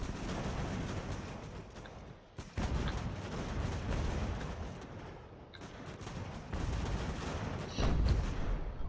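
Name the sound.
musket and artillery fire in Ultimate General: American Revolution video game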